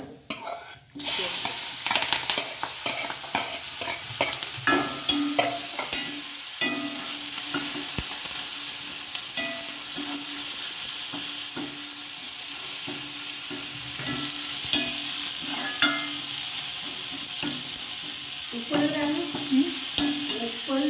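Mustard seeds and green chillies fry in hot oil in a Kerala kitchen, a steady loud sizzle with dense crackling pops throughout, alone with no talk.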